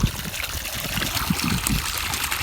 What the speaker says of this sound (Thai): น้ำไหลดี